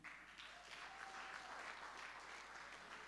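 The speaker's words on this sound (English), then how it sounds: "We just keep clapping and woo-haying and getting excited." Audience applause at a Global Expo Botswana closing ceremony, steady sustained clapping from a large crowd, heard at a distance and fairly faint.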